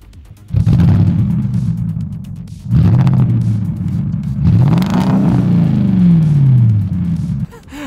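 A Porsche 4.8 liter V8 engine revs loudly and close in three long pulls, rising and falling in pitch, with brief quieter idle gaps between them.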